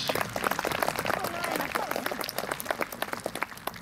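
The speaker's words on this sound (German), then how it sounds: "Einen Applaus für unseren Korporal Halilovic." A crowd applauds outdoors at an Austrian Army open day at a barracks in Amstetten, giving a fairly soft but steady round of clapping for a soldier finishing an obstacle-course relay.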